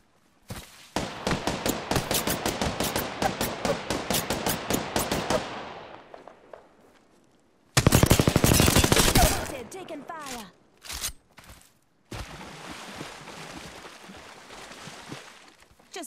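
Apex Legends gunfire: a long rapid automatic burst, a short pause, then a loud crackling volley and scattered single shots, followed by a steadier stretch of firing, all close and loud with a voice speaking at times.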